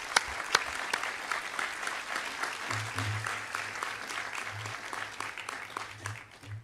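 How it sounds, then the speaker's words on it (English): A round of applause from the audience at the BMCC Honors Convocation 2025, many hands clapping in a steady, moderately distant patter, with a low hum and faint voices underneath. "let us extend our gratitude with a round of applause"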